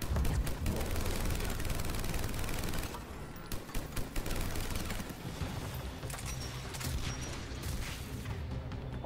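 Rapid gunfire from a firefight on Rannoch in Mass Effect 3, dense volleys of shots and impacts that stay loud throughout, briefly thinning near the middle before continuing.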